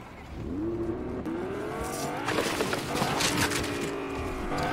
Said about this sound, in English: Damn, someone is racing.